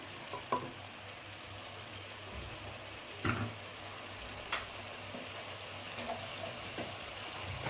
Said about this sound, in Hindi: चिकन को इसमें ऐड करके अच्छी तरह से हमने इस मसाले में भूनना है।